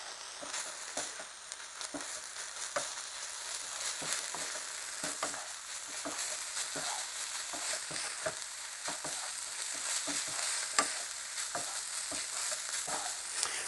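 Spicy chicken samosa filling with masala is stirred in a hot pan, giving a continuous sizzle broken by regular scraping strokes of the spoon, steady and close throughout with no talk.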